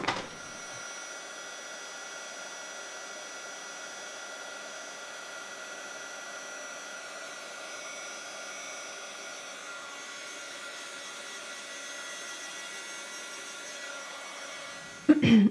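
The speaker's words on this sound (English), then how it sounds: "then we'll heat up our embossing powder so that it melts and we get a nice crisp white" Heat tool blowing steadily to melt white embossing powder on a craft card, a constant airy whoosh lasting several seconds before cutting off.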